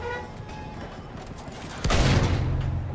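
A grenade blast in a WWI shooter game, one sudden loud boom followed by a rumbling tail, after a stretch of distant battlefield noise.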